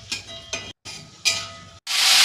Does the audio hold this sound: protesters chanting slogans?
no